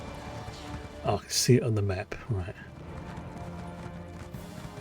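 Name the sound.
horse galloping in the video game The Elder Scrolls Online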